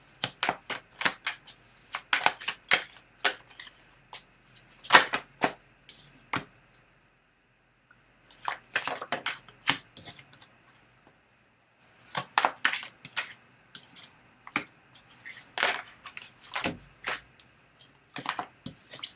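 Tarot cards are shuffled by hand in quick riffling bursts, crisp papery flutters and taps coming in several clustered runs separated by short pauses, close and clear with no talking.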